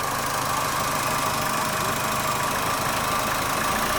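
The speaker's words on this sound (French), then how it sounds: "Donc là tu peux accélérer, tu peux démarrer s'il te plaît." A car engine runs close and loud with a steady, even drone and no clear rise in revs.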